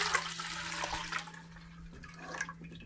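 Shrimp broth poured back into a cooking pot, a brief watery splash and trickle over a steady low hum, fading toward the end.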